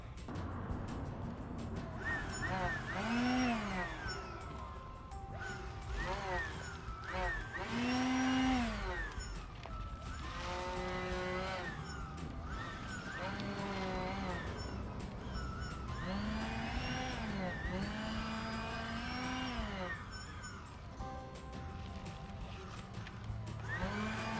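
A leaf blower clears bush trimmings in a yard, its steady whine rising and falling in pitch as the operator sweeps it back and forth, moderately close throughout.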